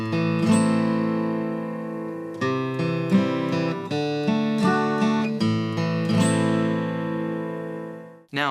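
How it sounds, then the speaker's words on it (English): A guitar plays the riff from a song with two added notes, clear picked notes ringing into one another in a steady pattern, close and solo, ending with a short scrape. "So the whole riff, including these 2 extra notes, should sound like this."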